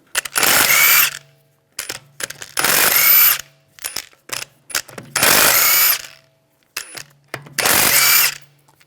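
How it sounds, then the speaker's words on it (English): An impact or power tool with a 17mm socket spins lug bolts off the wheel of a 2009-2013 BMW 328i xDrive, four loud whirring bursts separated by short clicks and pauses. "We're going to remove the wheel, use a 17mm socket,"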